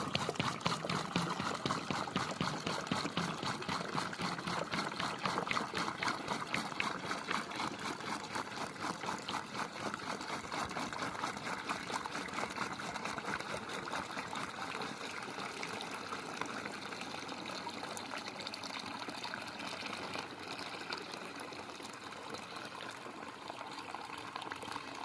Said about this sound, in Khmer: អញ្ចឹងយើងទៅមើលពេលដែលយើងចាក់ទឹក